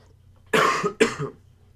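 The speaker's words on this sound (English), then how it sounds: "I will likely be coughing throughout this, like right now" Two harsh, close coughs in quick succession from someone with a cold, then quiet.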